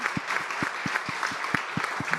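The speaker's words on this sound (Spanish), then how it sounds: "El aplauso para Pedro," Audience applause at a journalism festival panel, steady dense clapping with a few sharper individual claps standing out, fairly close and continuous throughout.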